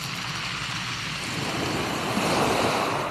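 Sea waves break on the shore at Lazarevskoye, a constant wash of surf with wind noise that swells slightly toward the end.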